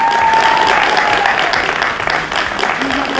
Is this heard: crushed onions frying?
no